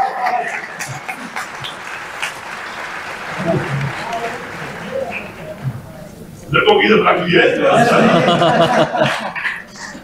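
Audience at a school board SSC result ceremony, with laughter and murmuring under a speaking voice, then a loud burst of clapping breaking out for the last few seconds.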